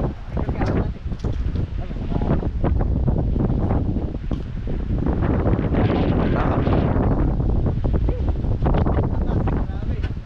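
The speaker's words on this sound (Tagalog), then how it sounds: "Lakas ng hangin." Strong wind gusting hard against the microphone outdoors, a continuous rushing roar with sharp buffeting bursts, while people talk intermittently over it.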